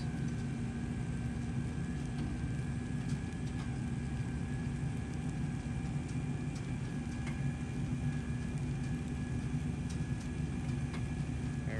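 A forage chopper's engine drones steadily as it drives away, a constant rumble with a faint whine on top and no clear change.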